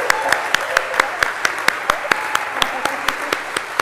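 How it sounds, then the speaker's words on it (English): Wedding guests at a ceremony applaud with a sparse, steady clapping rhythm of individual distinct hand claps over a soft murmuring room, moderately close and continuing evenly with no words spoken. "give Gavin a round of applause and give the couple a round of applause?"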